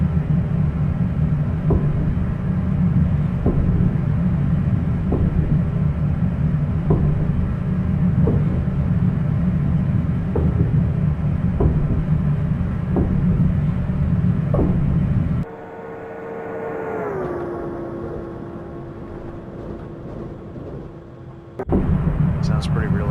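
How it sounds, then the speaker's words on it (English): A MARC commuter train in a train simulator game runs at speed with a heavy, steady rumble and regular wheel clicks over rail joints. The run ends abruptly partway and gives way to a quieter, tonal sound before the rumble returns. "We've reached the speed limit of 125 miles per hour in a MARC commuter train."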